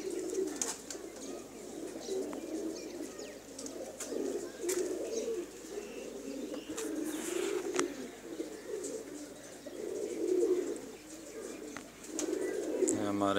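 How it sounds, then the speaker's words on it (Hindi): Soft, low cooing of male high-flyer pigeons at a village loft repeats over steady outdoor ambience, with faint chirps and a distant voice now and then. "ये हमारे कबूतर हैं जी"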